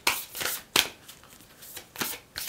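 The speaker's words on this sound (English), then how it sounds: "I'm going to pull you a couple more cards here for you guys" Tarot cards are shuffled and drawn in a series of quick riffling bursts, about five crisp flurries of card-on-card friction close to the mic, separated by short pauses, with no talking.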